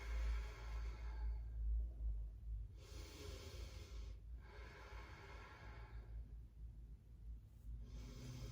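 Slow, soft exhalation during a standing yoga practice, a faint airy breath out drawn out over several seconds, with a second quieter breath following, close and alone without speech.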